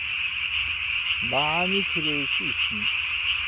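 A tree frog croaks at night in the countryside near flooded rice paddies. It gives a few close, buzzy calls in quick succession over a steady drone of insects, while a person speaks in the background.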